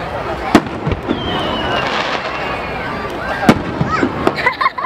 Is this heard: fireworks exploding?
yes